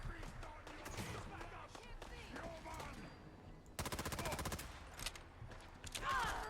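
G3 rifle from a Fallout 4 weapon mod firing a rapid burst of automatic gunfire, preceded by scattered shots and game sounds, with a few later single bursts, loud and close.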